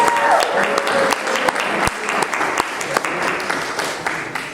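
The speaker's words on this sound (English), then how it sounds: "can we have another round of applause for these amazing speakers?" An audience claps steadily for speakers in sustained applause, a dense patter of many hands with a few sharper individual claps standing out.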